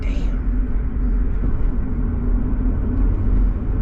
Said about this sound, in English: being in Atlanta, you get caught up in traffic, as you see